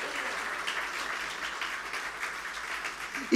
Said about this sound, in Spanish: vamos, dáselo fuerte el aplauso al Señor